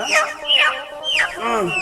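A live chicken handed over during a cheap Eid grocery handout at a market, clucking and squawking in several sharp bursts close by, while people talk around it.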